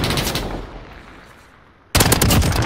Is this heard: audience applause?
no